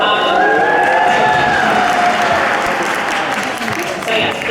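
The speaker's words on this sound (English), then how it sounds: "please feel free to hoot and holler and cheer" A crowd at a naturalization ceremony in Oakland, California roars with loud, sustained cheering, whooping and clapping, with voices shouting over one another throughout.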